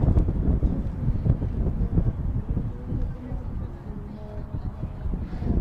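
Steady outdoor wind buffeting the microphone at Catamount on a sunny, cold day, a low rumbling roar that rises and falls throughout with no talking.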